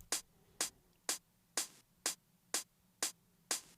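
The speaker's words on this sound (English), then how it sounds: "If we just play the hi-hat" A single hi-hat sample from 90s hip-hop struck eight times at an even, steady pace, each a crisp short tick with a quick decay, played alone.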